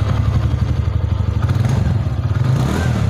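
A 2022 TVS Ntorq 125 XT Edition scooter engine idles close up, a steady pulsing exhaust putter with a faint rattle, loud and continuous.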